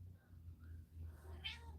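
Domestic cat giving a single short, faint meow near the end over a quiet low hum, soft and somewhat distant indoors.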